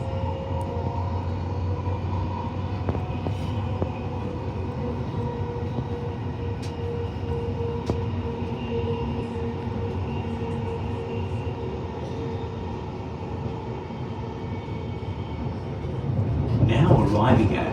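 A Brisbane suburban train on the Gold Coast/Beenleigh line runs toward Fruitgrove Station, giving a steady low rumble and rail noise from inside the carriage that grows louder near the end.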